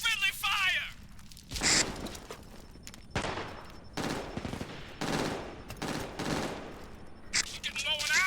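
Gunfire in the Brink shooter game: bursts of automatic fire and scattered shots, mixed with voices calling out, and the firing comes in clusters of varying loudness.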